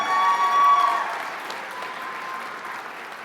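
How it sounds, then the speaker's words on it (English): A college graduation audience applauds education assistant graduates in a crowded ceremony hall, a wash of clapping that is loudest at first and then tapers slightly, with a faint tonal note at the start. "Big round of applause for them"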